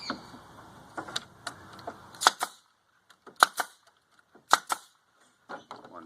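A brad nailer fires brads into an upcycled fence panel, with about five sharp, close snaps spaced a second or so apart, the first few over light rustling handling noise and the later ones against near silence.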